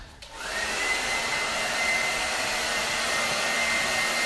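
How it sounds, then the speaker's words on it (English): A blow dryer drying hair in a salon cut starts up and runs as a steady, loud, close whoosh with a constant whine, with no talking over it. "So let me get my blow dryer here"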